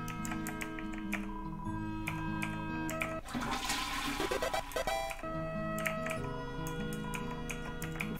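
One loud gurgling toilet flush from Deltarune bursts out for about two seconds, a rush of draining water in the middle of bright looping game music.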